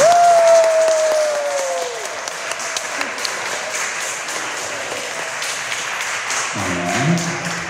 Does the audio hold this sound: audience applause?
yes